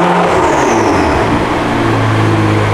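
Cold car engine revving loudly, failing to hold a steady idle, its rough uneven drone swelling and sagging over a few seconds with no talk.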